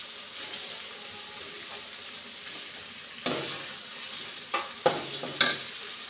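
Eggs are tossed and stirred in a fried spice masala, giving a quiet sizzle that swells with several sharp spatula scrapes and clatters toward the end.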